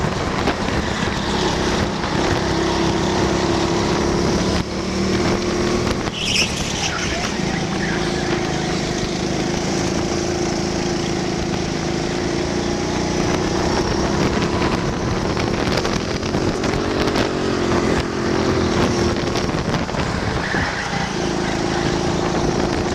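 Super heavyweight racing kart on a qualifying lap at a Nottingham track, its engine droning steadily and loudly throughout with some wind buffeting on the microphone and no talk.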